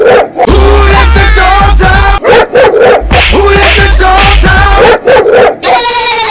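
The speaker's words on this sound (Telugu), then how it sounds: "ఆ కుక్క నీ మీద కొదులుతాను" Dog barks and yips come loud and close in several quick bursts, with a whimpering, whiny edge between them and a brief pause before the barking resumes.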